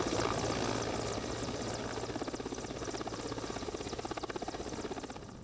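A helicopter flown by a border service colonel passes steadily and fairly close, its rotor making a continuous pulsing whir with a rapid rhythmic chop that holds loud for the whole stretch, with no voices.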